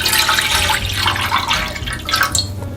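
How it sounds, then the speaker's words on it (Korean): About a liter of water pours steadily into a pot, a continuous close splashing and gurgling rush that lasts throughout without a break. "냄비에 물 1리터 정도 부어주고요."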